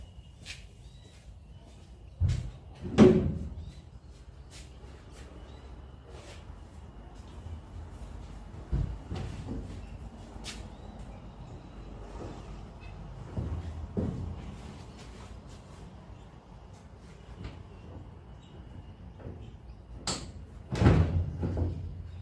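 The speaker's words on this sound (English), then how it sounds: "Anyway, I'm going to take the door off." Door being removed from an abandoned VH Holden Commodore being built as a Peter Brock HDT SS Group 3 tribute car: scattered loud metallic clunks and knocks, some sharp and close, separated by quiet workshop stretches, with no talking.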